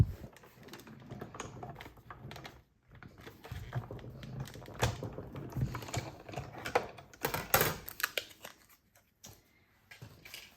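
Red paper being cut while making a Christmas gift box, giving a steady run of close, crisp cutting and tapping sounds with short pauses and a few louder snips.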